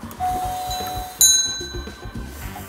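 A mechanical doorbell triggered by a Nest Hello rings with a bright metallic ding whose tone lingers and fades, heard indoors over a soft background murmur.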